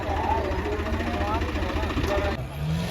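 A loud, steady tractor engine rumble runs low and continuous throughout at a trolley-pulling competition, with a voice talking over it.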